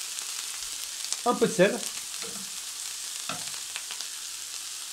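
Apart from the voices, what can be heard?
green onions frying in oil in a pan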